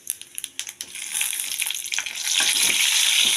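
Five-spice seeds and green chili hit hot oil in a pan for a fish-head chorchori, giving a steady close hiss that swells into a loud, continuous sizzle after a few scattered crackles.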